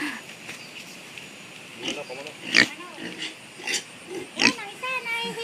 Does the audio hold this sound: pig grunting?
yes